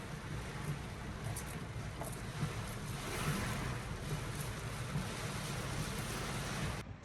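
Heavy rain pouring in Surat, a dense steady roaring wash of rainfall with water noise, constant and fairly loud throughout.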